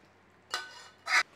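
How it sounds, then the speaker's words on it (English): A butter and sugar mixture being stirred into parkin cake batter, heard as two short, close scraping swishes of a spoon through thick batter with a quiet pause between them. "Now we're going to stir that through in there, get that fully incorporated in there."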